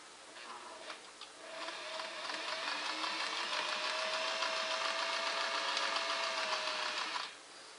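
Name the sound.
Singer Model 404 sewing machine stitching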